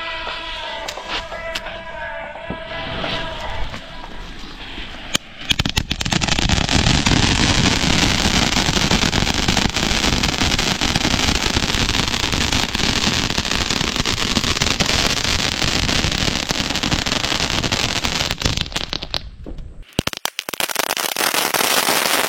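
A Starwell brand firecracker tin goes off with a sudden loud burst, then a dense, sustained roar of crackling explosions lasting about fifteen seconds before cutting off, followed by a few scattered pops.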